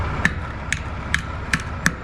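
Five sharp, evenly spaced metallic strikes from a hammer knocking a part into place while a truck trailer is hooked up at night, moderately close over a low background rumble.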